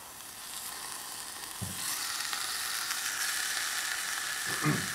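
Beef being seared in a Dutch oven, a soft steady sizzle that grows louder partway through, with a couple of light clinks from the pot or utensils.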